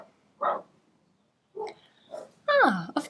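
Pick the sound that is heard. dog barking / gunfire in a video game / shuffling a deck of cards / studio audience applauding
dog barking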